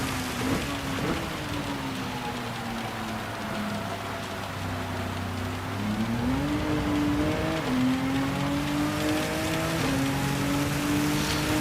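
Rain falling on the track during a Gran Turismo 7 online community race, a steady wash of rain noise under the whine of race car engines shifting pitch as they accelerate.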